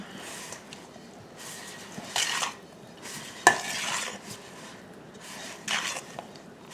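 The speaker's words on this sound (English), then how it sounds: "I've got the peppers and the Velveeta mixed up. And stir the macaroni up." Macaroni with peppers and melting Velveeta is stirred in a pot, producing bursts of spoon scraping and clinks against the metal, close by, with faint sizzling between strokes.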